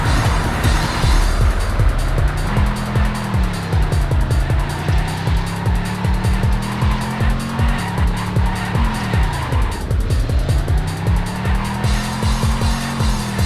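In the 1995 racing game Destruction Derby, a car engine whines up and down through its gears in repeated loud sweeps, with tyre squeals and skids cutting in throughout.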